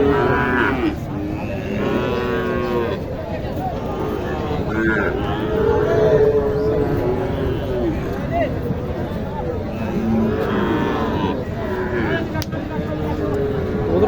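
Sahiwal bulls and other cattle moo repeatedly, loud and close, over a steady crowd babble of people talking at a cattle market in Naogaon, Bangladesh.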